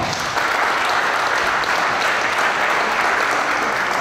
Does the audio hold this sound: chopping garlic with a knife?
no